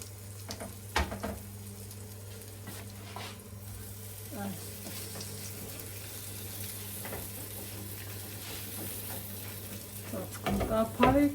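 Fish frying in a pan, a soft, continuous sizzle with scattered stirring clinks, a low background hum, and a few louder knocks at the start and end.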